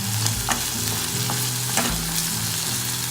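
Slit green chillies, bay leaf and whole cumin sautéing in hot oil, a loud continuous sizzle with a low bubbling hum and occasional spoon scrapes, close up.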